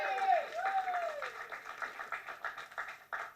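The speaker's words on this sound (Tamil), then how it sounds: "இந்த கைத்தட்டல்கள் அனைத்தும்" Audience clapping at a speech during a Tamil film event for Anal Mazhai, a moderately loud patter of claps that grows into a rhythmic beat, with a brief voice over the start.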